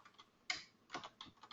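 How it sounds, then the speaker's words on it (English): Quiet clicks of a computer keyboard as an email address is typed, a few irregular keystrokes in short bursts with pauses between, close and soft, no speech. "And then I am going to enter that email address in here as a link."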